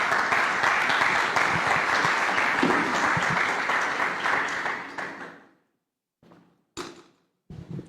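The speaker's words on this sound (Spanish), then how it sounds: "Lo recibimos con un fuerte aplauso" An audience at a Comité Cívico Pro Santa Cruz gathering welcomes a speaker with loud, sustained applause that swells for about five seconds, tapers off, then gives way to a few isolated soft thuds.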